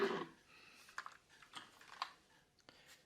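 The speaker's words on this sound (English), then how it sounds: "This is a custom keyboard with pudding keycaps by the brand right here." A Mark 61 custom mechanical keyboard with pudding keycaps is typed on softly and up close, giving scattered clacky keystrokes in an irregular rhythm with quiet gaps between them.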